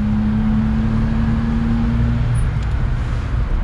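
A 1994 Suzuki Carry kei truck driving along, its engine a steady close drone with a low hum that holds for the first two seconds, then continuous road and engine rumble.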